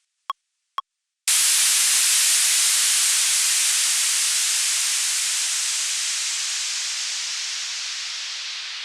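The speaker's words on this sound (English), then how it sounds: "Now we have a white noise sample." Loud, steady white noise hiss spanning the whole spectrum, generated as a sample for melodic house music production, slowly fading over several seconds after two short clicks.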